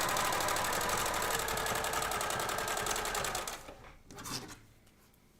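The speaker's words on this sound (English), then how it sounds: "now I'm going to straight stitch down the side" A sewing machine runs steadily, straight-stitching down the side of a toddler's costume strap to close the seam, its fast even whir filling the first few seconds before stopping abruptly.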